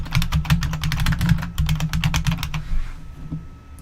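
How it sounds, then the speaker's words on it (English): Loud computer keyboard being typed on rapidly, a dense close stream of clacking keystrokes that thins out and stops near the end. "The keyboard is very loud."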